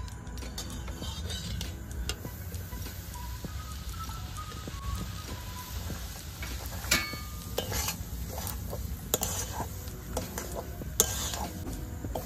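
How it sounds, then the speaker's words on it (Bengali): Semolina toasts in hot ghee over a very low flame for milk cake, with a soft continuous sizzle under scattered scraping and clinking of a spoon against the pan. "সুজিটা এবারে ভেজে নেব।"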